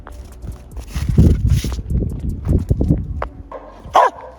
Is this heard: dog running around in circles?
yes